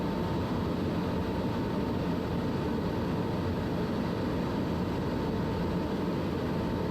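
A SubSonex jet aircraft climbing in flight, heard as a steady, loud broadband roar with a faint constant whine, unbroken throughout.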